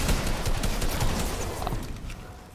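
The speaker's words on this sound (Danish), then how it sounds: "Nu der er masser af shotgun-skud igen." Dense, continuous gunfire in the Fortnite video game, shotgun blasts overlapping into a steady fusillade that stays loud and busy throughout with no talking.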